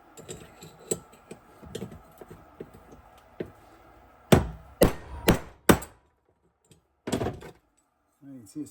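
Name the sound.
hammer knocking a bearing out of a wagon wheel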